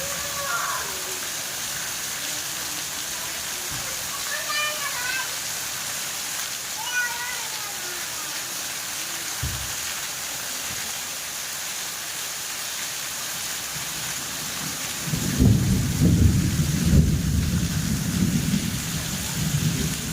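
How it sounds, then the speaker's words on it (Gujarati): Steady heavy rain pours throughout, and a deep rumble of thunder rolls in near the end, loud and close. "વરસાદ એક ધારે ચાલો જ છે ગાજવી સાથે"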